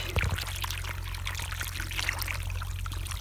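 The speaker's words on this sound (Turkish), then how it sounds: "İlk suyumuzu yani can suyumuzu veriyoruz." Water is poured steadily over newly planted watermelon seedlings in a garden bed, a continuous close splashing trickle over a low background hum.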